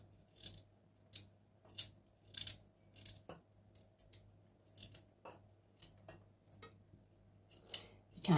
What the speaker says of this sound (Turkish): Havucumu da doğrayayım.